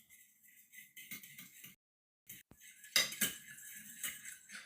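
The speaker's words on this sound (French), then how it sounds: "Je remue." Eggs seasoned with pepper and chili being stirred in a bowl, with quiet metallic clinks and rattles of a utensil in short bursts and brief pauses between them.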